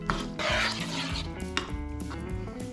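A spoon stirs butter chicken curry in a slow cooker pot, giving soft scraping and clinking sounds that stay quiet and fairly steady, with a low hum underneath.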